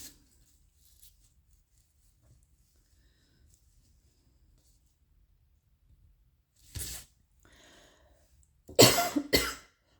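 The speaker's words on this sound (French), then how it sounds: "Je tousse." A woman coughs close by, first a single sharp cough, then a quick cluster of two or three louder coughs after a long quiet stretch.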